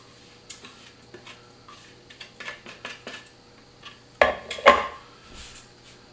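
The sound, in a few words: spatula spreading cheesecake crust in a springform pan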